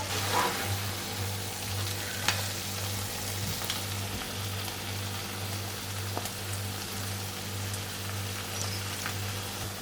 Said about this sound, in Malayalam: ഇടയ്ക്കിടയ്ക്ക് ഇളക്കി കൊടുത്ത് നമ്മുടെ ക്രാബ് ഞാൻ റെഡിയാക്കി എടുത്തിട്ടുണ്ട്